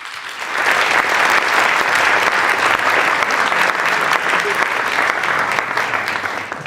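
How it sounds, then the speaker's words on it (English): Audience at an entrepreneurship showcase gives a round of applause, loud, dense clapping that starts abruptly and holds evenly at full strength throughout. "please do join me in a round of applause to all of you"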